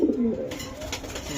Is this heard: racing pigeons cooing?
yes